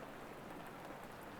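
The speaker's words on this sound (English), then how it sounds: "Rain hushes the window panes beyond the workshop door." Steady rain patters softly against window panes outside a workshop in an old bookshop, a faint, even hiss with no voices.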